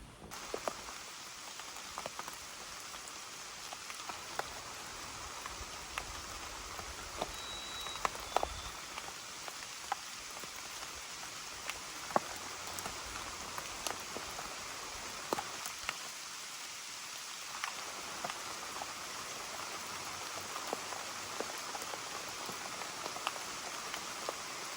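Rain falls steadily over a forest hunting and fishing camp at Mitchinamecus, with a constant hiss and scattered close drops tapping on a surface, continuous and moderately faint throughout.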